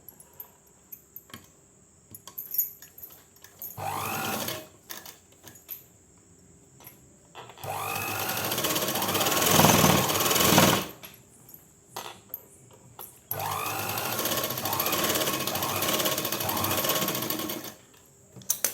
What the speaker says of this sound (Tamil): அதே மாதிரி இந்த சைடும் இப்படி ஓரம் மடக்கி இப்படி அடிச்சுக்கலாம்.